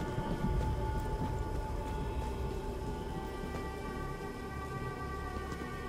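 Rainfall in the video game Killing Floor 2, a constant washing patter with a low rumbling undertone and faint tonal hum, steady and moderately loud from start to finish.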